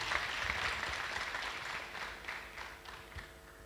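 Audience applause at a university technology week event, a steady wash of clapping from a crowd that slowly thins and fades over a few seconds.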